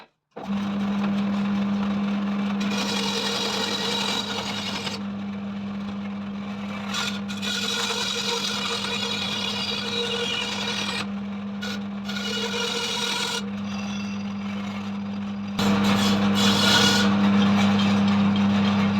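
A power saw cuts a handle shape out of wood, running as a steady, loud buzzing whine for the whole stretch with slight shifts in pitch as the blade works through the piece; no one speaks.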